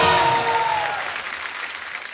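Studio audience applause for a guest singer on a television comedy show, a full burst of clapping at the start that gradually fades away over two seconds, with a brief tonal sting at the onset.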